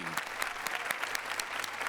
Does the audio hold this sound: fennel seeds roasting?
no